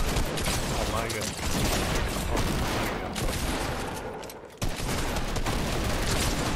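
A shotgun fires in a video game amid a dense fusillade of loud gunfire bursts and mechanical clatter, with a brief drop near the end before the shooting resumes. A player talks over the action.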